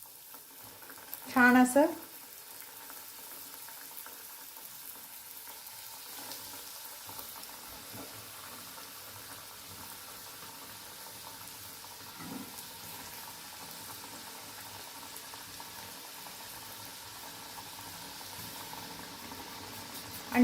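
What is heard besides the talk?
deep-frying snack pieces in hot oil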